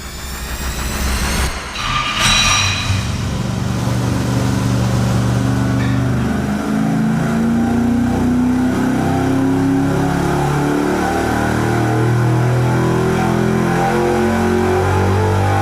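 A stock 325 cubic inch engine on a dyno pull, revving loudly and steadily climbing in pitch after a brief lower idle and a quick blip, sustained and close with no talking.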